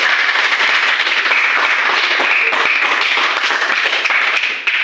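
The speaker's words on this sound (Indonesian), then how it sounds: "berikan aplaus kepada teman-teman." Classroom applause for classmates: many hands clapping in a dense, steady wash that fills the room at full level for nearly five seconds, then thins at the end, with no talking.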